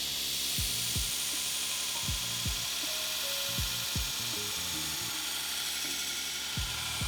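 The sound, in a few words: belt grinder with 36 grit belt grinding knife bevel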